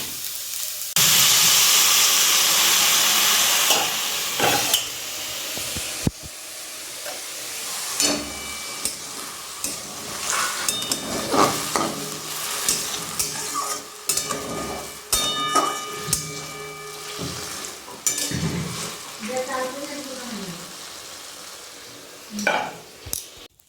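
A little water goes into a pan of frying potatoes, bori, greens and poppy seed paste, setting off a sharp, loud burst of sizzling that fades to a softer hiss, broken by the scrape and clink of stirring.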